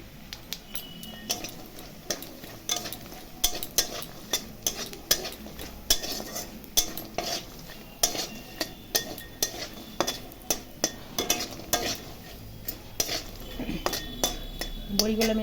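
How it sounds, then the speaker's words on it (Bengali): A utensil scrapes and knocks repeatedly against a wok as lentil dumplings fry with dried chilli and black cumin, sharp metallic clatters in an irregular stirring rhythm over a soft sizzle, close and fairly loud. "বড়িগুলো আমি লাল লাল করে একটু ভেজে নিলাম"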